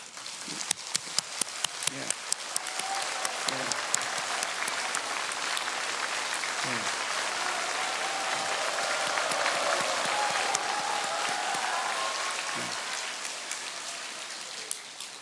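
Audience applause for the president at a Buddha's Birthday ceremony, a dense, sustained wash of clapping from a large crowd that swells and holds for the full stretch, with a few brief voice fragments early on.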